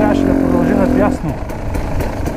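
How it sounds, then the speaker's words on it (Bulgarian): A KTM 300 enduro motorcycle descending in sixth gear gives a steady mid-pitched engine drone that drops off after about a second, with a rider talking over it. "в момента мотора ми е на 6-та"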